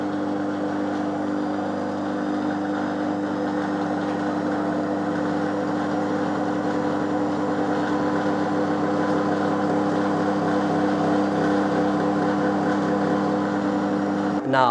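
A 12V 90A car alternator rigged as an electric generator spinning up to higher RPM, producing a loud, continuous mechanical drone and whine that climbs slightly in pitch, with no talking.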